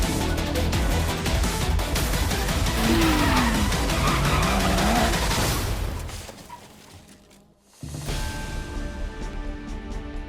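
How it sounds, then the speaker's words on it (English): Drifting cars in a celebrity driving challenge, engines roaring steadily with tire squeal and skidding for most of the stretch, then a brief lull before the loud motor noise picks up again. "our celebs will take on their toughest challenge to date, simply learning the skill of drifting."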